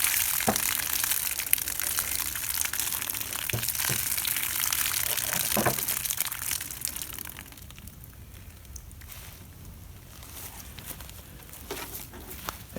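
A 9mm Hornady Critical Defense round punctures a water jug outdoors. Water gushes and hisses out loudly, then eases to a softer splashing trickle, with a few sharp knocks along the way.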